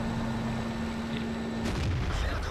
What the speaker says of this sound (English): So I see three tanks down there and I will try to take a few shots at them.